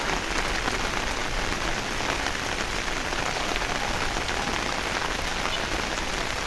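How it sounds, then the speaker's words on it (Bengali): Heavy, steady rain drumming on an umbrella overhead, a dense continuous patter with no breaks, close and loud. "ছাতার উপরে বৃষ্টির পানি কেমন শব্দ হচ্ছে।"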